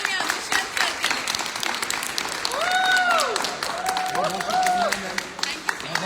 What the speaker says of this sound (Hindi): जोरदार तालियां दुष्यंत सर के लिए